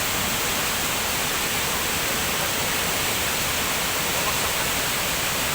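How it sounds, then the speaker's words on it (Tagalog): Strong water crashes nonstop at Dampalit Falls, a dense, loud roar that fills the whole clip. "grabe ang tubig"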